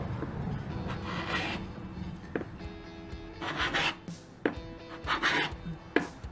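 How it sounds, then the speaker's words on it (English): A wide carbide scraper dry-scraping paint off a floor, a series of close, rasping strokes, some longer drags and some sharp scrapes, coming at an uneven pace with no talk. "It's not so bad with the dry scraping because all the scrapings kind of go away."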